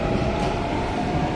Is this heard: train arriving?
yes